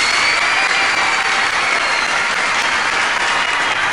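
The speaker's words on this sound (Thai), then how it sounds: "ผมขอเสียงปรบมือดังๆให้กับคุณสุนาถแล้วก" A studio audience at a Thai quiz show about Steve Jobs breaks into loud, sustained applause, dense clapping that holds steady throughout.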